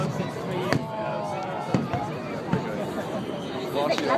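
Fireworks at the Swiss National Holiday celebration in Basel pop and crackle in scattered bursts over a continuous murmur of crowd chatter.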